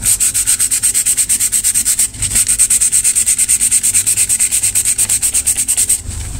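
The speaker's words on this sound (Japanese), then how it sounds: "この箱書きはサンドペーパーで消します。" Sandpaper is rubbed back and forth over a wooden box to remove an ink inscription, making loud, close, rhythmic scratchy strokes in quick succession with a short pause midway.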